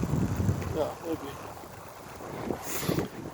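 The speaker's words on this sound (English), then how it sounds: "It's a little bit windy" Wind buffeting an outdoor microphone beside a recumbent trike, a low rumbling roar that surges and eases, with someone talking over it.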